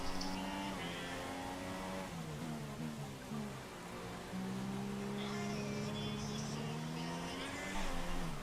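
Race car engines in F1 2016 during a wet Russian Grand Prix, a continuous high whine that rises and falls through gear changes, mixed with rain and tyre spray noise and a faint commentary voice.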